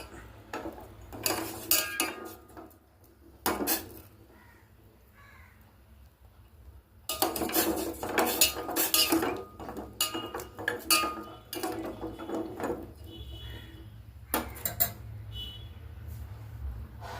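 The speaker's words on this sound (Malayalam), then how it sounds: "ഒരു സ്പൂൺ കൊണ്ട് നന്നായി ഇളക്കി ചൂടുവെള്ളത്തിൽ" A metal spoon stirs a bowl of hot water that holds nutmeg, giving bursts of clinks and scrapes against the bowl separated by quieter pauses.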